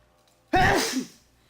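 A single loud, close sneeze bursts out sharply after a quiet moment and trails off within about half a second.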